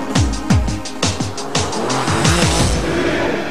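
Porsche Supercup race cars howl past one after another in quick succession, each engine note sweeping down as it passes, with tyre noise and a continuous loud track roar and no voices.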